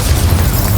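A fire spell cast in a video game lands as a short, loud, dense burst, a booming whoosh of flame with no pause.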